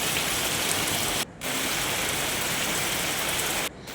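Steady, dense rain hisses down without pause, a broad wash of sound cut by two brief gaps, with no one speaking.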